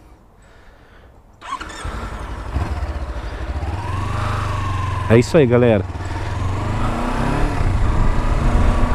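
A Kawasaki Versys-X 300 motorcycle, new and still being broken in, rides through city streets. Its engine drones steadily and loudly, with a brief rev and gear-change pattern midway, while someone talks over it.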